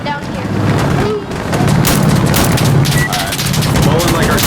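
Loud, continuous bursts of gunfire and booming artillery-like explosions in the video game Insurgency Sandstorm, rolling together with wind-like rumble and no clear gaps.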